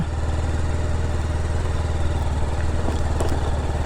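A BMW G310RR motorcycle's single-cylinder engine running steadily nearby, a loud, even low-pitched thrum with rapid regular firing pulses and no revving.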